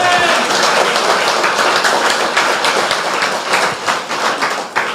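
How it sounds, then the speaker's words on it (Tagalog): Loud, dense applause fills a church gathering, a steady wash of many hands clapping close by that holds for the whole stretch with only slight dips near the end. "Malakas na palakpak para kay Lord."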